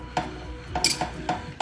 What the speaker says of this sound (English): the noodles and gonna stir it on up and stir it on up